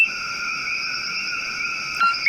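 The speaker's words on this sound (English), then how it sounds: "The Koki frog got its name from its beautiful singing voice." A coquí tree frog from Puerto Rico calls in a steady, clear, tonal chorus that holds without a break, growing slightly louder in a brief burst near the end.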